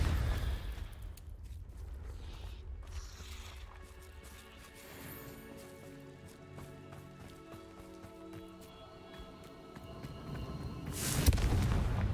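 The Confringo fire spell goes off in a Harry Potter game with booming blasts and crashing debris, followed by a lingering rumble and a second loud burst near the end, with no voices.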